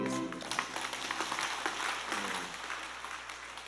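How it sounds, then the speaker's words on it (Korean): A congregation applauds together, a sustained wash of many hands clapping at moderate volume that gradually thins toward the end. "우리 박수하겠습니다."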